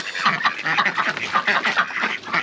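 Several ducks quack steadily in a backyard homestead pool, a busy overlapping chorus of nasal calls that carries on without pause and stays close and fairly loud throughout.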